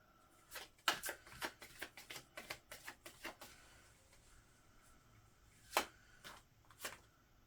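Tarot cards are shuffled in a quiet room, a quick run of soft riffling flicks followed by a pause and then two more isolated snaps, close and fairly faint, with no talking.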